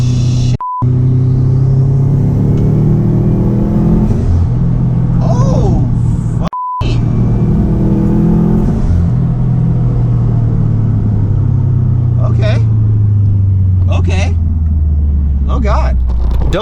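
A Subaru WRX engine runs loud and close, revving in strong pulls with a deep rumble that falls and rises, a couple of short beeps cutting through, and excited voices talking over it.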